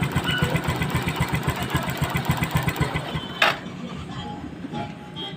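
A Bajaj CT 125 motorcycle engine fitted with a Honda Supremo CDI runs nearby with a quick, steady thumping rhythm, then stops after a sharp click, leaving a faint hum.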